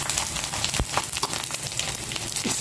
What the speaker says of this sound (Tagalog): Nagpiprito po si Papa Ryan ng kaling